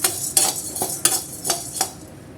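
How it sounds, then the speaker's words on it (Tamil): Garlic is sautéed with roasted toor dal in a pan, a series of about six crisp rhythmic scrapes and clinks of a spatula stirring against metal, over a faint background sizzle. "இந்த ஸ்டேஜில் பூண்டை சேர்த்து ஒரு வாட்டி நல்லா வதக்கிட்டு ஸ்டவ் ஆஃப் பண்ணிடலாம்"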